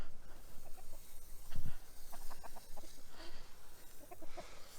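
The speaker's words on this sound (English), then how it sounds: "Some of you may have noticed I continue to feed the chickens directly on the grass." Chickens clucking outdoors on grass, short scattered clucks and soft calls at moderate distance over a steady low background, with one louder thump near the middle.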